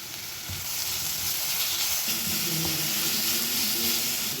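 Green chillies and ginger-garlic paste with salt sautéing in hot oil in a pan for a chicken fry, giving a steady, loud sizzle that continues without a break.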